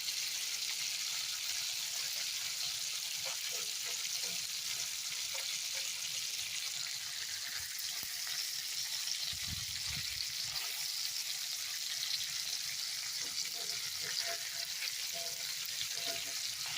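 Seasoned lamb chops charring in a hot pan, with a constant dense sizzle and crackle heard up close, a brief low thump partway through, and no one talking.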